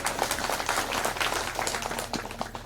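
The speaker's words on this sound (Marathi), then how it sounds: "एकदा जोरदार टाळ्या झाल्या पाहिजे." Audience at a devotional Devi Bhagavat katha gathering claps loudly and continuously in a dense, sustained burst of applause with no speech over it.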